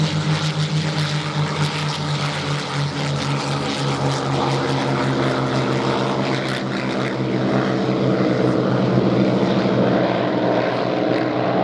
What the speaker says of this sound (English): it became the fastest American single-engine fighter of the day, capable of speeds in excess of 400 miles an hour